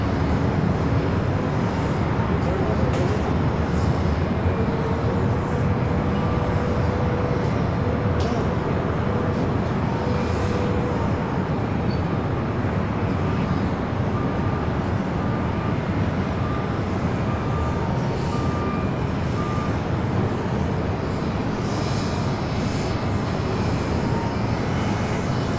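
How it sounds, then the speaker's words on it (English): A Sun Country Boeing 737-800 takes off down runway 6 right at LAX, giving a loud, continuous jet roar that holds steady throughout. Faint voices sit underneath. "Got the Sun Country 737-800 now rolling down 6 right."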